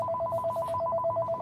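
A telephone rings with a steady electronic warble, two alternating tones pulsing rapidly and evenly for the whole moment, fairly close and alone without talk.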